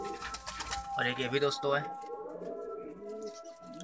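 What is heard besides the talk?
pigeons cooing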